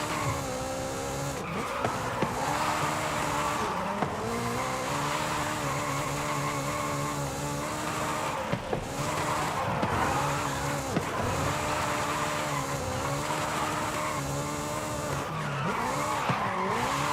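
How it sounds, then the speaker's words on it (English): A car drifts in the Forza Horizon 5 racing game, its engine droning loudly and steadily beneath sustained tire squeal, with a few brief gear-change dips. "That was a rowdy entry to the drift."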